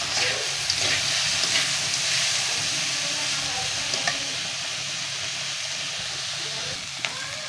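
Bitter gourd (karela) fries in a pan with a steady, fairly soft hiss and sizzle throughout, plus a few faint clicks of utensils and no clear talk.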